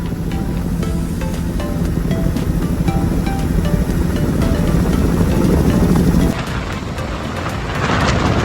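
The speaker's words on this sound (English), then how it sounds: "About to go on my private helicopter." Private helicopter flight over New York, a steady engine and rotor roar heard from inside the cabin, continuous and fairly loud, shifting in tone near the end.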